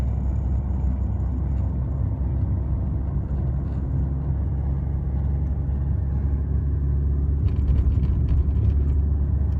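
A car rolls downhill in second gear with no pedals pressed, its engine braking in a steady low rumble and drone throughout, nothing else standing out.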